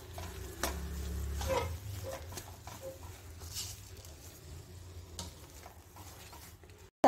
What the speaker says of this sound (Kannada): ಈಗ ಇದನ್ನು ಹಾಕ್ಕೊಂಡು ಚೆನ್ನಾಗಿ ಮಿಕ್ಸ್ ಮಾಡ್ಕೊಳ್ಳೋಣ